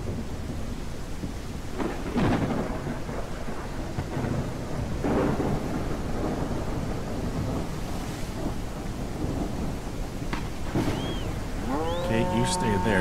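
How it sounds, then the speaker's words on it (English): Thunderstorm with rain in the video game ARK, heavy steady rainfall with several rolling thunder rumbles, a bright crack near the end, and an animal call over the storm. "Raining and flooding. Look at the lightning."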